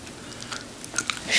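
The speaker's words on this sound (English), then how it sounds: "this is a chewing gum video" Gum chewing during a glam makeup session, soft wet smacks and small crunchy clicks close to the microphone over a steady background hiss.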